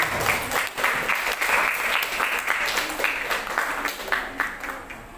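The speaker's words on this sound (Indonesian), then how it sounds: "kita kasih aplaus untuk kelompok 4 ya" A classroom of high school students bursts into sustained applause for a presenting group, a dense, steady clatter of many hands that tapers slightly toward the end.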